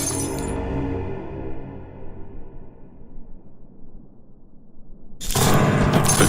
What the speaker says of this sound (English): In the basement, you smash this glass to get these pliers inside.